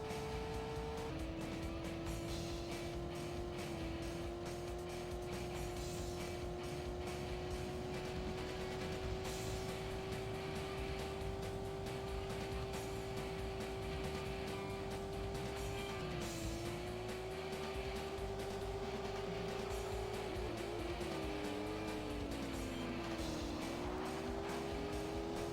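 A race car in the N64 game World Driver Championship holds a steady, loud engine tone throughout, with the pitch wavering and dipping near the end as the car spins out. No one speaks.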